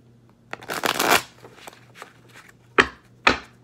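A deck of tarot cards shuffled up close, with a long riffling burst followed by a few softer flicks and two sharp snapping taps as the cards are squared, alone in a quiet room with a faint steady hum.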